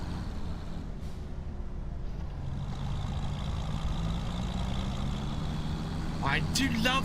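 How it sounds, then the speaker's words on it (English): A tractor engine in the farming game Farming Simulator 25 gives a low, steady diesel rumble with a faint droning whine, while a voice talks over it and a few sharp bright chirps come near the end. "I do love the sound of this tractor."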